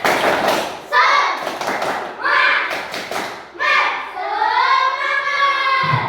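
A fifth-grade class performs the 'tepuk semangat' clapping chant, with sharp bursts of group clapping in rhythmic clusters alternating with children chanting together in unison.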